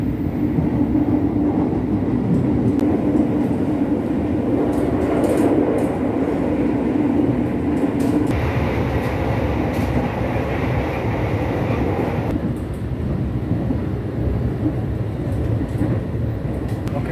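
Inside an executive car of the Ranggajati passenger train leaving Tugu station in Yogyakarta, a steady low rumble of wheels on rails carries on throughout, with faint rhythmic clacks and a shift in tone partway through.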